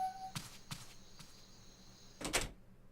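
Apartment door opening in a video game: a couple of light clicks and rattles, then a louder thunk and creak as the door swings, close and fairly quiet.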